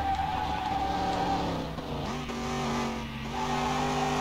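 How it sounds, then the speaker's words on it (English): A 1990 Chevrolet Caprice engine in Car Mechanic Simulator 2021 roars steadily at wide open throttle in fourth gear, with its pitch sagging and rising slightly as it drones along loudly. "I don't think I've ever hit fourth gear at wide open throttle in my cart."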